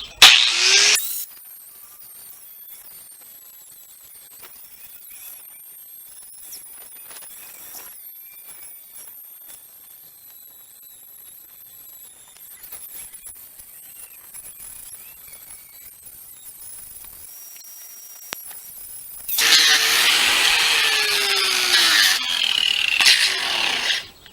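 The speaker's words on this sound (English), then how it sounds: "I'm gonna try it with a grinder just so I can get that good edge" An angle grinder shapes and hollows the edge of a wooden log for a log mirror frame. After a long quiet stretch, it cuts in with a loud, harsh burst near the end, and a short rasp sounds at the very start.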